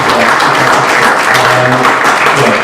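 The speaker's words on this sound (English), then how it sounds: "let's do a round of applause for" Audience applause after a Q&A panel on neoliberalism, a loud, dense, continuous wash of clapping with some crowd murmur beneath.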